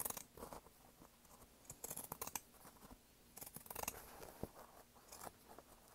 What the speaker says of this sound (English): I'm just going to trim that seam allowance down to make it so it'll be nice and round